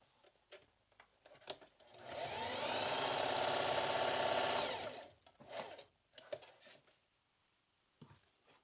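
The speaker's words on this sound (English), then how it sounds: "Wow, so this stitched through the faux suede really nicely." Entry-level mechanical sewing machine stitching through faux suede: a steady whirring motor hum with rapid needle chatter lasting about three seconds, bracketed by scattered clicks and handling knocks.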